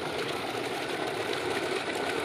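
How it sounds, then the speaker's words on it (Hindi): A steady engine, likely a water pump, runs in open village fields, giving a continuous broadband drone with even low rumble and no pauses throughout. "आहा, इंजन बढ़िया चल रहा है।"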